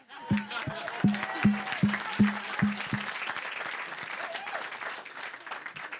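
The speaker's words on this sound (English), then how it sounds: "please will you join me in a round of applause?" Wedding guests applauding after a call from a speaker, a swelling crowd clap with whoops and cheering voices, a few sharp thumps at the start, then fading away as the room settles.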